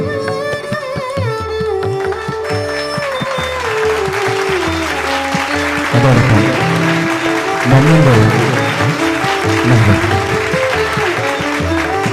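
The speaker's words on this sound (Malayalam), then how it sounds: "ഒരു നിറഞ്ഞ കയ്യടി നിങ്ങൾ കൊടുക്കാം കേട്ടോ" An audience at a Malayalavedhi programme at St. Mary's College, Puthanangadi, claps steadily for an honoured guest, the sustained applause mixed with a speaking voice and tonal background sound.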